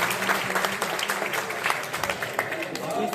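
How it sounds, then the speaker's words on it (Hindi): Audience applause welcoming a guest at a Hindi-language felicitation event for a 96th birthday, steady clapping filling the whole stretch with a voice talking over it. "आदरणीय श्रीमान श्री संदीप प्रिय गौतम जी जरा तालियां बजा करके स्वागत करिएगा"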